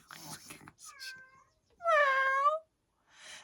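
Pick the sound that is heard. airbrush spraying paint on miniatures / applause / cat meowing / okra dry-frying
cat meowing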